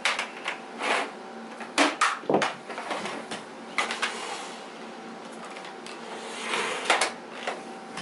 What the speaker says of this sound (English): that's the slowest cord winder I've ever used on a new vacuum